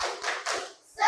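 Children in a class perform tepuk semangat, a patterned rhythmic clap of several quick hand claps in bursts, close and fairly loud, with brief gaps between groups.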